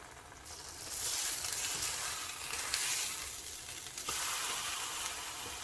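Sauce-covered tortillas for birria-style steak tacos warm in a hot pan with a steady, close sizzle that swells and settles. No one talks.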